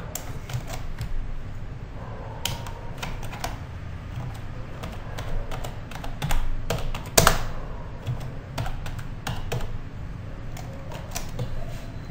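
Rapid typing on a computer keyboard while coding HTML in Notepad, with steady clicking keystrokes in uneven bursts and one sharper clack near the middle, close and fairly clear over a low background hum.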